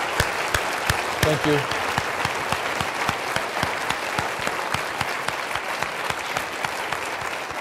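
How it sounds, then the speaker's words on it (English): Sustained audience applause for a panel at the Excellence in Action 2009 education conference: a broad, even wash of many hands clapping throughout, with a brief spoken word from a person partway through. "let's give a round of applause to all of our panelists."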